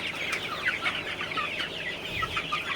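Sonali chickens cluck softly and continuously inside a poultry shed, a faint, busy chatter of many birds with no talk.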